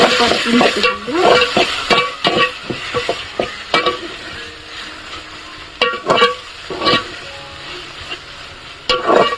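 Oil sizzles in a pan over a wood-fired stove with tomato, bay leaf, onion and coconut masala, repeated scraping and stirring clatters, loud and close, irregular bursts over a constant frying hiss.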